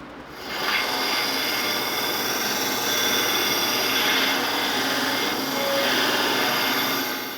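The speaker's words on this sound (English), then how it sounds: "then round off the corners with the disc sander" A disc sander rounds the corners of a small scroll-sawed wooden game piece, a steady abrasive whir and rasp running unbroken for several seconds at a fairly even loudness.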